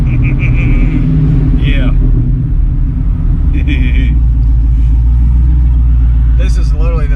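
A car fitted with a ProCharger centrifugal supercharger on Toyo Proxes R888R tires pulls hard, heard from inside as a loud, continuous engine drone with whining and rising tones, while people talk over it.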